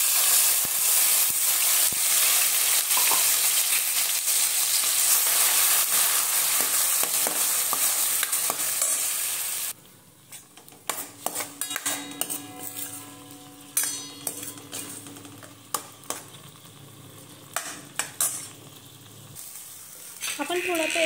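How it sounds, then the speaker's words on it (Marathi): Masala frying in a pan while being stirred, a loud continuous sizzle and hiss for about ten seconds, then dropping to quieter intermittent crackles and scraping stirs. "आता आपण मसाला कलसून घेऊया।"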